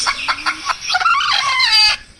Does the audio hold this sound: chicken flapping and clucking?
yes